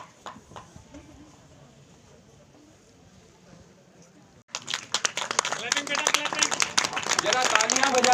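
An audience at a government inter college ceremony in Manila breaks into loud, dense applause that swells and continues steadily, following a quieter stretch of low background murmur.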